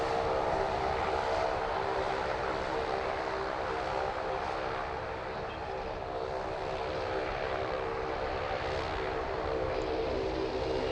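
An Airbus A330-900neo airliner taxiing at Sydney Airport, a steady engine hum with a droning tonal whine, distant and continuous, dipping slightly midway.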